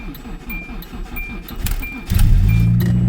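A small manual car cranks on a cold, snowy Minnesota day, with rapid starter chugs before the engine catches and settles into a loud, steady idle close by.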